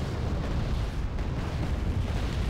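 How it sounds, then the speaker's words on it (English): Rocket pod explosions from Hind helicopters in a combat video game rumble as a dense, continuous barrage of booms, loud and low with no clear gaps between blasts. "the Hinds here get in on the action just using their rocket pods"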